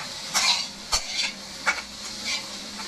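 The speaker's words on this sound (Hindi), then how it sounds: "इसे अच्छे से मिक्स कर लेते हैं।" Chicken donut mixture being stirred with salt and three green chillies, giving a few soft, scraping mixing strokes in a bowl at close range with quiet pauses between them.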